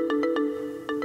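A phone rings out on a call in quick tonal bursts, a pair of rapid pulses, a short pause, then another pair, clear and close with no talk.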